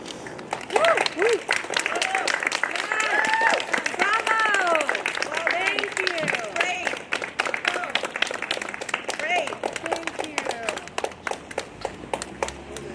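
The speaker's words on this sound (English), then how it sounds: "Let's give them another round of applause, guys." Crowd applause at a community march for homelessness in Barrie: scattered, lively clapping from a gathered group that carries on steadily while people talk and call out over it.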